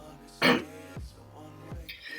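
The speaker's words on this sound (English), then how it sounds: "just a little cough there" A single short, loud cough bursts out near the microphone, followed by quieter throat sounds and a speaking voice.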